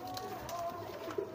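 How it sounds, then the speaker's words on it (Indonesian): Pigeons in a loft give a soft, low cooing against quiet background hum, with a brief louder coo near the end. "ada beberapa merpati yang sedang saya giringkan juga"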